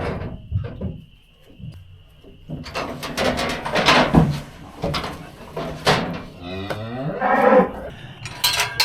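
Cattle moo repeatedly in a barn after being worked and vaccinated, loud bellowing calls close by mixed with clanks and knocks of gates or equipment and occasional human voices.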